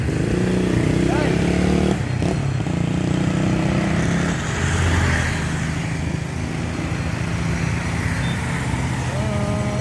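A big motorcycle moving through busy street traffic in the Philippines, its engine droning with a rising and falling pitch near the listener, set against a constant wash of road and traffic noise.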